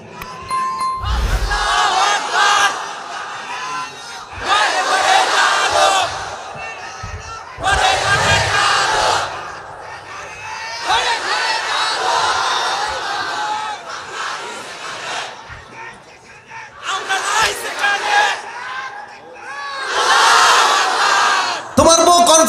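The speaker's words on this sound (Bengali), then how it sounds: "যে কোনো একজন, জোরে সোরে দাও তাকবীর।" A large crowd at a Bangladeshi religious gathering (waz mahfil) shouting the takbir chant, 'Allahu Akbar', in loud, full-throated unison bursts that repeat in rhythmic call-and-response waves with short pauses between.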